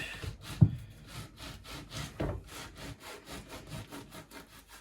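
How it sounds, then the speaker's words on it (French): A knife saws a croissant in half on a cutting board with a quick series of rhythmic back-and-forth strokes, close and fairly quiet, with no talking. "je prends sur ma planche et je coupe mon croissant en deux"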